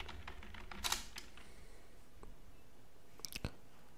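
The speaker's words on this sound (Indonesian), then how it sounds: "Selanjutnya kita aktifkan license-nya dengan mengetikkan perintah ini" Keys tapped on a computer keyboard while entering a command-line instruction, with a quick burst of clicks early on, a few scattered taps, and a final short cluster of keystrokes, close and fairly quiet.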